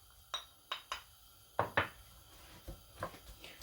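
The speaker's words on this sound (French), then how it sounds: "Je vais mettre en premier mes oignons," Chopped onion pieces dropped into a frying pan for a salade méchouia: a handful of sharp, separate knocks and clinks on the pan, close and fairly soft, with gaps between them and no voices.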